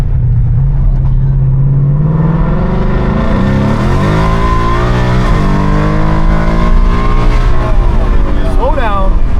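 A loud Ford Mustang engine roars hard under acceleration, its pitch climbing through the revs with a shift partway before pulling up again, heard close from inside the car.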